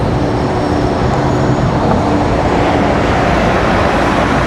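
A Lufthansa Airbus A380 airliner passing overhead at Washington Dulles airport, a loud, steady, broadband jet roar that holds evenly throughout without any voices.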